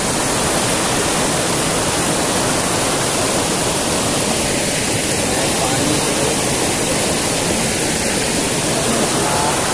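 A waterfall of rain-fed stream water after the first monsoon rain pours at night in a constant, loud, close roar that stays unbroken for the whole stretch.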